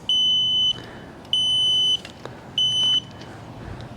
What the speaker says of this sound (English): Once you hear that beep, that deactivates the backup beep